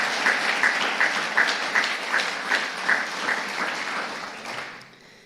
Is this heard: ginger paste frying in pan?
no